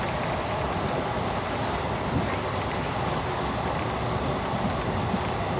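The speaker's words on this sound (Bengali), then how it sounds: "দেখতেই পাচ্ছ আমরা এখন ট্রেনে আছি" Steady broadband rush of wind and rolling rail noise on a train moving through misty countryside with an open window, continuous and fairly loud throughout with no talk.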